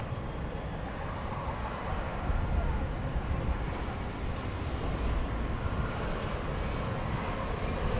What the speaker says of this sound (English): Airbus A320neo.